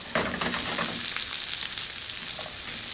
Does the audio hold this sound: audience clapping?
no